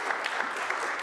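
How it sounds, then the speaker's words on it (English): A brief burst of audience applause at a Christmas handbell concert, a soft, dense patter of many hands clapping, heard from a distance. "You're getting your applause, Eddie."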